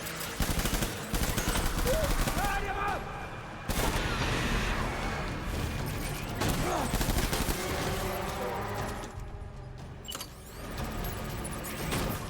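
Repeated gunfire bursts in Death Stranding 2, booming shotgun blasts mixed with rapid fire across a loud, busy battle soundscape, with brief drops between volleys.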